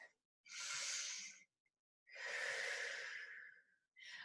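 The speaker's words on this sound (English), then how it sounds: "And then take a deep breath at the top." Two deep breaths taken while rolling up to standing in a fitness class, each a long, close, airy inhale-exhale of about a second with a short pause between, alone with no talk.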